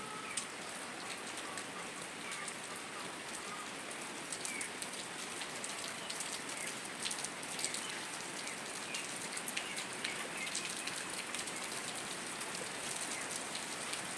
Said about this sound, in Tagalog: Ngayon naman biglang umulan.